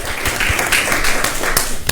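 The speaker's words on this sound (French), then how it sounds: "Merci d'applaudir pour les CNJ Mali, les conseils nationaux de la jeunesse." An audience claps for Mali's national youth councils (CNJ Mali) at a live midday talk broadcast, producing a loud, dense, continuous wash of applause with a few sharper claps, lasting under two seconds.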